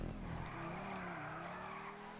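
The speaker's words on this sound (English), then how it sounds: "Amazing drift right there with the T20" Tires of a T20 supercar squealing through a drift in Grand Theft Auto V, a continuous wavering screech over the engine drone, steady and fairly faint.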